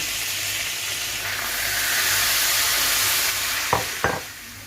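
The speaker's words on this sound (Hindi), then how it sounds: "अब हम इसमें डालेंगे ये जो हमने नाप के रखा हुआ था मैदा, ये हम डाल देंगे।" Flour tipped into melted butter in a pan over low heat, a steady close sizzle and hiss that swells slightly, ending with a couple of short scraping stirs.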